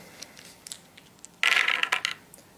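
Four dice for the board game Legends of Andor clatter across a table in a short, bright rattle, with faint taps as they are gathered and then a loud tumbling burst that settles within a second.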